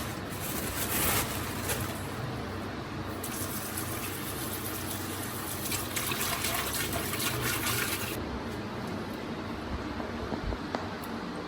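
Running water washing fresh fish for a fish curry, a steady, fairly close splashing and trickling flow with faint handling noises throughout, and no talking.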